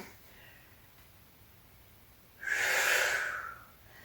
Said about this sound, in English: Use those exhales to come down, to come up.